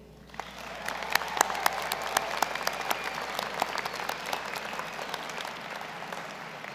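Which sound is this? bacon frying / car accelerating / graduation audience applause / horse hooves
graduation audience applause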